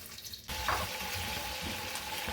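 Cut potato frying with cumin in a pot, a steady loud sizzle that bursts in suddenly after a quiet moment and then holds evenly, with faint scraping beneath.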